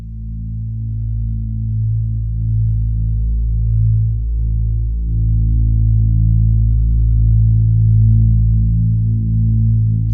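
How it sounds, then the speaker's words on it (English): A deep, warm synthesizer pad hums steadily in the low register, smooth and muffled, with a soft swelling sustain and no high tones. "it's nothing except just a pad on the lower octaves with a bit of EQing, reverb, and filtering"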